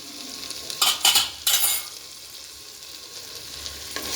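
A spoon scrapes and clatters in a frying pan as pav bhaji masala is stirred, giving a few sharp metallic scrapes in quick succession over a faint, quiet sizzle.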